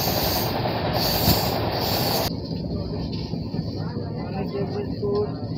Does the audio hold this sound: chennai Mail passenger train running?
yes